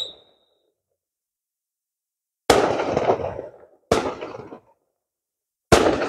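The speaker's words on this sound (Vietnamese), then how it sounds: "Đây, Trung Quốc người ta đang đốt pháo hoa." Firecrackers set off near a temple in China burst loudly in three separate volleys after a silent pause, each a dense crackling barrage of pops that fades away before the next begins.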